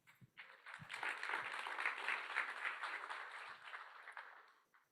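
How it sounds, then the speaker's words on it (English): An audience at a startup innovation awards final applauds, clapping swelling quickly into a dense, moderately distant round that holds for a few seconds before tapering off to scattered claps. "A round of applause."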